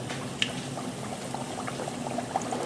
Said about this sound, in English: Fish really start bubbling there.